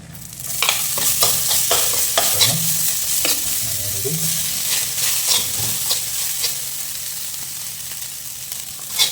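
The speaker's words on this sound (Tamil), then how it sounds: "ரைஸ் போட்டுடலாம். கொஞ்சம் கொஞ்சமாக ஆட் பண்ணிக்கலாம்." Cooked rice is tipped into a pan and stirred for lemon rice, with scraping spoon strokes and soft sizzling as it fries, close and fairly loud, with irregular stirring knocks throughout.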